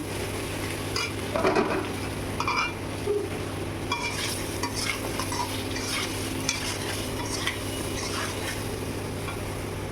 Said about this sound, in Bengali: একটু কাশ্মীরি চিলি পাউডার দিলাম। দিয়ে আমি একটু নাড়াচাড়া করে নিয়ে